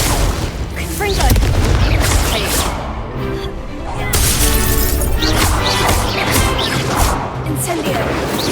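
Confringo spell blasts in Hogwarts Legacy land as repeated loud booming crashes amid chaotic combat effects, with a voice speaking among the impacts.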